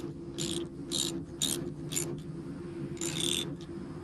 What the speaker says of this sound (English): Take out the slack and retighten the bolt.